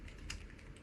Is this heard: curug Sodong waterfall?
no